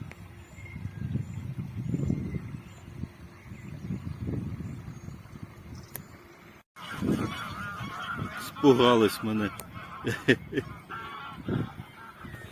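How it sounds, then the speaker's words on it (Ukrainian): Wild geese honk repeatedly outdoors on the Ruhr river, the calls loud and clustered, with a brief remark spoken over them and some background rumble. "Це дикі. Це дикі гуси."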